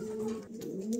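A pair of fantail pigeons, a black female and a male, cooing close by in a steady, continuous low murmur with no talk over it.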